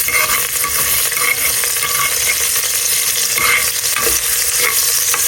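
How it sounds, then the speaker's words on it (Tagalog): Ginger frying in a pan until golden brown for a soup, a loud, dense, continuous sizzle with faint stirring ticks and no voices throughout. "Pa-golden brown natin yung luya"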